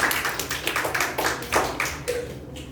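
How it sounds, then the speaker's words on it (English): An audience gives a round of applause after a youth leadership program speech, a burst of sharp, irregular hand claps that rise and fall over a couple of seconds, close and fairly loud. "Please give a thunderous round of applause for her."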